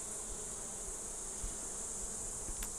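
Honey bees buzz steadily in a dense, continuous drone during a brood inspection of an open hive, close and even throughout, with no talk.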